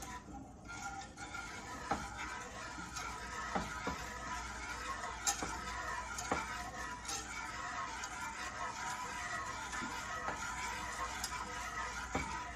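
Enchilada filling is stirred in a pan over a flame, giving a continuous low sizzle with light, regular clicks and scrapes of a utensil against the pan, quiet and close.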